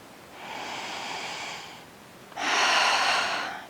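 Breathing during yoga hip circles: two audible, airy breaths close to the microphone, a softer inhale followed by a stronger, louder exhale.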